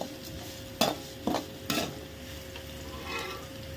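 Onions and tomatoes sautéing in a pan for a tamarind bean curry, a soft low sizzle under three sharp scraping stirs near the start and a faint rustle later, close and quiet.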